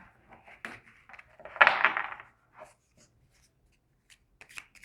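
Tarot cards shuffled by hand in a quiet room: a few soft riffles and taps building to one clear brisk shuffle, then sparse light card handling.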